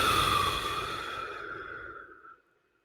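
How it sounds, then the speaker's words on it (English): A single long, breathy exhalation, soft and close, fading out over a couple of seconds into silence. "Just listen to your own breathing"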